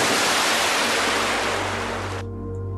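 A river flows in a loud, dense rush of water that suddenly cuts away near the end, leaving a low, quiet hum.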